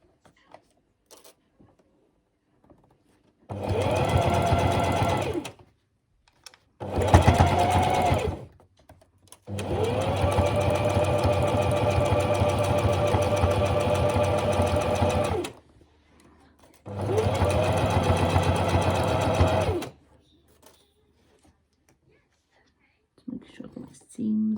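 Sewing machine stitching fabric for a plush dolphin toy, running in four loud bursts of steady whirring motor noise separated by short pauses, the longest burst lasting about six seconds, with no voices over the stitching.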